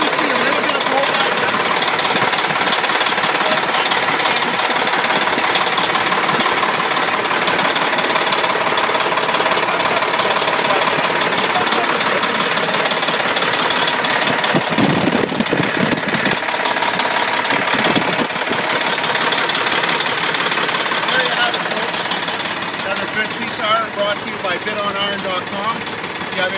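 A 1999 Volvo VNL64T truck's diesel engine idles with a steady, loud, continuous rumble heard close up on the turbo side, with faint talk over it and a brief shift in tone partway through.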